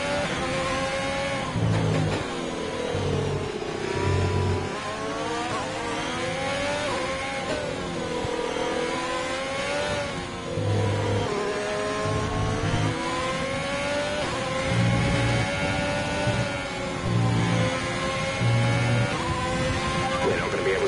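A Formula 1 car engine in a racing video game at the Hungary circuit screams steadily and loudly, its pitch rising and falling through repeated upshifts and downshifts, with a radio voice talking over it.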